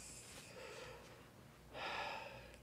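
A person takes a deep breath, a faint close inhale followed by a stronger breathy exhale, quiet and alone without talk.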